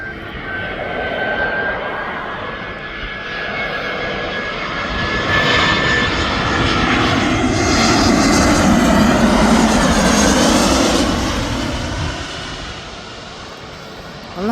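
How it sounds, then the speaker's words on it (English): An EasyJet jet airliner arrives at Birmingham Airport, its broad engine roar building from a distance, swelling to a loud peak mid-clip and easing off toward the end, with no talk. "We're on the arrival of an EasyJet."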